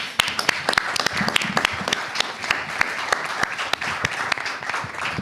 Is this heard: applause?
yes